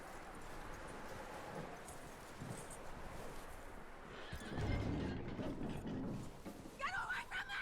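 A horse in the video game Red Dead Redemption 2 whinnies near the end, with hoof clip-clops and game background sounds beneath it.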